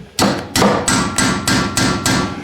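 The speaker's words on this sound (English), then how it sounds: "what I usually do is just take a hammer and chisel" A hammer striking a chisel to separate the nut dust cover on a Mercedes 300D wheel hub during brake work, seven sharp metallic blows in a steady, fairly fast rhythm, loud and close with no talking.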